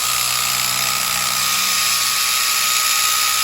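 Rotary polisher spinning a pad on a trashed Mustang wheel, a steady high-pitched motor whine with broad buzzing hiss that holds constant and close throughout, with no talking.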